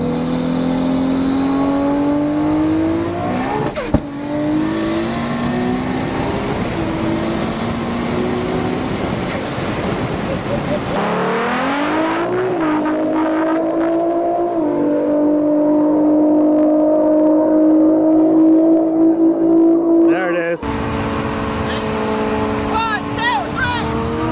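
Nissan Skyline R32 GTR with an RB30 stroker engine and 7685 turbo, loud and close, revving up in rising sweeps, settling to a steady drone, then revving again near the end.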